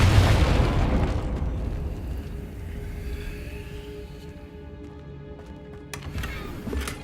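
Confringo fire spell exploding in the video game Hogwarts Legacy, a loud booming blast at the start that rumbles and fades over several seconds, followed by faint game effects and a small crackle near the end.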